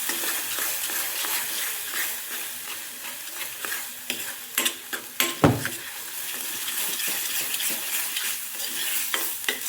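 Masala gravy for a hotel-style egg curry being stirred and roasted in a pan: a steady close sizzle and frying hiss with repeated scraping of the spoon against the metal, plus one sharp knock midway, no talk.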